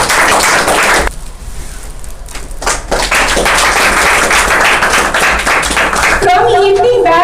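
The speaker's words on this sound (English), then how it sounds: "A big round of applause for you." Audience applause at a monthly rewards and recognition ceremony, loud and continuous clapping with a brief dip, mixed with voices and background music toward the end.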